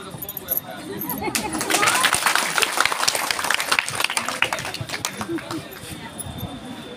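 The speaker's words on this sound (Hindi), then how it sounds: "एक बार ताली से स्वागत करेंगे।" A crowd at a protest rally of Bihar livelihood cadre workers breaks into sustained clapping to welcome a speaker. The applause is dense and close, swelling after the first second and then tapering off, with voices mixed in.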